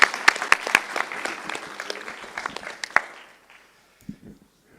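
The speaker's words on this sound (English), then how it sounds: "Big applause then" Applause from a conference audience at a training event in Finland, a burst of sharp clapping that thins out and fades after about three seconds, leaving near silence with a faint stray sound at the end.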